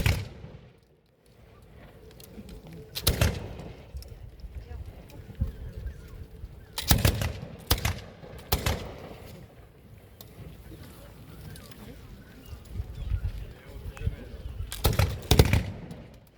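Muskets fired by the front rank in a historical military demonstration at Saint-Malo, outdoors: several loud sharp reports, some single and some in quick pairs, over wind noise and a murmuring crowd.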